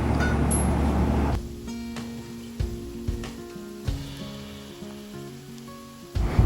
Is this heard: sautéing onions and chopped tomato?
yes